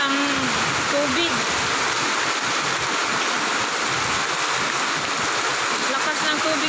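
Strong floodwater surges through a canal during heavy rain and wind, a dense, unbroken roar of rushing water heard close by, with faint voice-like tones briefly surfacing at the start.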